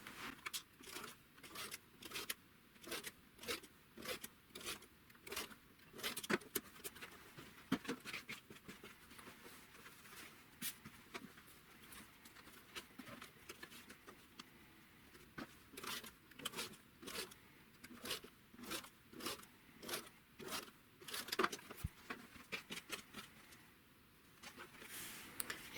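Fabric strip segments being cut with a rotary cutter against a Stripology ruler for a quilt block, a series of sharp, close, evenly repeated crisp cuts and light ticks, fairly quiet with brief pauses between strokes.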